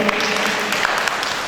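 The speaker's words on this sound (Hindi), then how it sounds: "ताली बजा दो।" A gathering of children and adults at a Jain religious class claps together in a dense, continuous burst of applause lasting the whole moment, loud and close, with voices mixed in.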